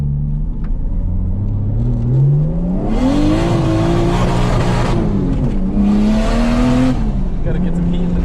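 Drift car engine revs and drones through laps at Grange track, pitch climbing and falling with gear changes, loud and continuous with bursts of harsher noise.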